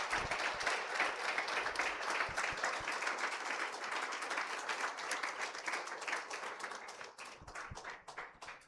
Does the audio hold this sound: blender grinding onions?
no